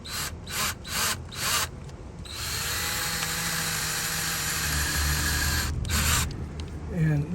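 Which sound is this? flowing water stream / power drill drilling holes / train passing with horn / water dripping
power drill drilling holes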